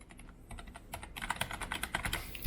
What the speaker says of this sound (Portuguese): é um teclado bem silencioso comparado a um teclado mecânico